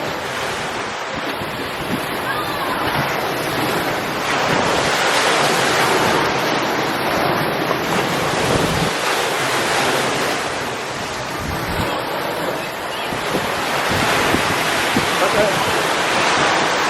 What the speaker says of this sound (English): the waves were really coming in